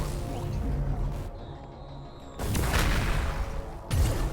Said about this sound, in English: It's a cool explosion noise.